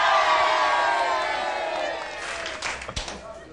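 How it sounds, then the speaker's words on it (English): A studio audience cheers and claps for a presenter during the last show at Pebble Mill in Birmingham, a loud wash of cheering that fades, leaving scattered claps and a few sharp hits. "let's have a cheer for Magnus!"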